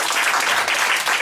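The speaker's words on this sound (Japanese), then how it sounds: "もう一度の素晴らしいメンバーに拍手を。" A concert audience on the Good Time Tour 2015 claps for the band members, a brief, dense, even burst of applause heard alone.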